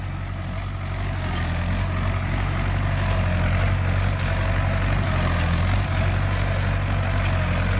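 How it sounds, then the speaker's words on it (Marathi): Mahindra 585 DI tractor engine running steadily without load in a field, a loud continuous low diesel rumble with a constant throbbing drone and no pauses. "अजिबात न लोड घेता ट्रॅक्टर चालतोय."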